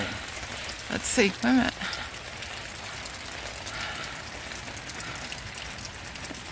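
Rain pours off a house gutter instead of into a rain barrel, a steady hiss of falling water throughout with brief speech near the start.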